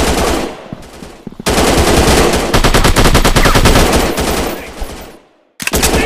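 Loud, rapid automatic gunfire in the mobile shooter FPS Commando Gun Strike Ops 3D, sustained bursts of close machine-gun fire broken by brief pauses, with a game voice calling out between volleys.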